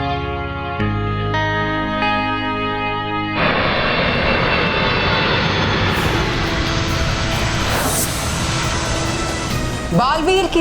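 An airplane engine in the Hindi fantasy TV series Baalveer: after a stretch of music, a loud, dense engine roar swells in and sustains as the plane passes overhead.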